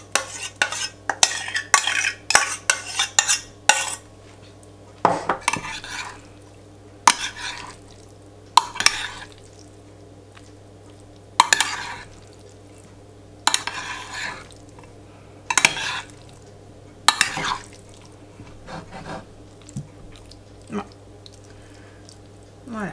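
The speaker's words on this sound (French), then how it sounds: "Je vais essayer de mélanger encore une fois, mais alors délicatement." A celeriac gratin being gently mixed in a dish with a utensil, repeated scraping and clinking strokes in irregular bursts, close by, with a person talking at times.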